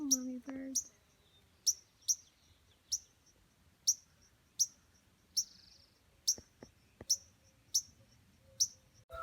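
A mother bird near her nest gives sharp, high chirps, about a dozen spaced evenly apart at close range in an otherwise quiet setting. A brief voice is heard at the start.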